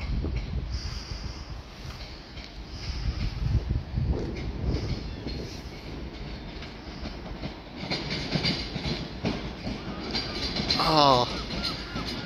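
A Class 73 locomotive passing through Dover Priory station: steady rolling rumble with wheel clatter over rail joints building toward the end, loud and close, with a squealing tone near the finish.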